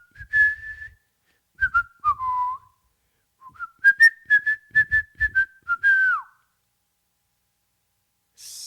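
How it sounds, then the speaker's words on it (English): A person whistles a cheerful tune in clear, close phrases of short bright notes and held tones, with brief pauses between phrases and no talking over it. "So he started whistling."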